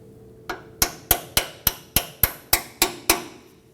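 Hammer tapping an alignment cam bolt into a camber kit on a 2015-2020 Ford F-150, about ten sharp metallic knocks in a steady, quickening rhythm, close and clear with no talk.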